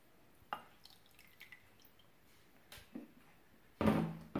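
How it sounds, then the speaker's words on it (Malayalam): Lemon juice is poured onto egg whites in a mixer jar for mayonnaise: a few faint drips and taps, then a short, louder splashing pour near the end, with no talking. "അതിനുശേഷം കൂടെയുള്ള നാരങ്ങാനീര് ഒഴിക്കാം"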